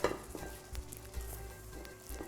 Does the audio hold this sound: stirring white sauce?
yes